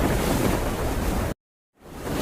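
Stormy sea waves churn in a loud, broadband roar, dropping abruptly to silence for a moment before the rushing surf swells back in.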